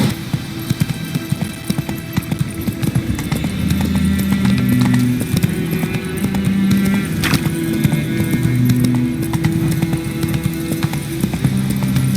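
Roach, a horse in The Witcher 3, gallops with a rapid, steady clip-clop of hooves beneath a low background hum, loud and continuous throughout with no talking.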